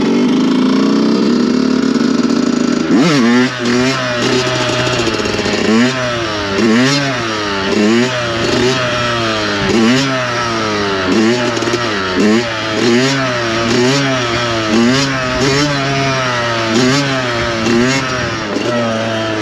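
A Yamaha YZ 125 two-stroke motocross bike starts up loud and close, then revs hard in repeated rising bursts as it shifts up through the gears, with a sharp rhythmic engine note and no talk.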